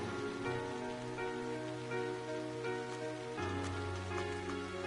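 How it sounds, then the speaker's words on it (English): Steady rain hisses evenly throughout in the video game The Legend of Heroes: Trails of Cold Steel, with soft sustained music playing underneath. "Oh, it's raining."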